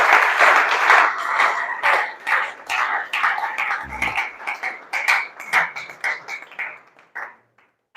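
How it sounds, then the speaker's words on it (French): A church gathering applauds a speaker, with loud clapping from many hands that swells at first, then thins into scattered claps and fades near the end. "Est-ce qu'on peut acclamer très fort pour le frère?"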